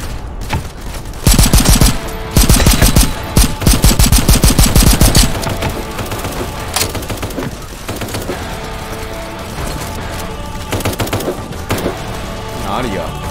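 Rapid rifle and machine-gun bursts from a horror shooter game about schoolgirls fighting ghosts, loud and close in dense volleys, then thinning into scattered single shots over game noise.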